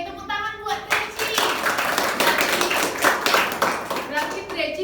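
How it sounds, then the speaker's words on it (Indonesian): Classmates clap for a student in a classroom during a teaching-practice lesson, a burst of rhythmic clapping from a small group of children, with a brief voice at the start and chatter mixed in. "tepuk tangan buat Treci"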